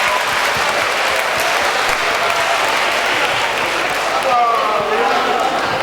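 An audience in a school hall gives sustained, loud applause at the close of a 50th-anniversary variety show, a dense even wash of clapping with scattered voices mixed in.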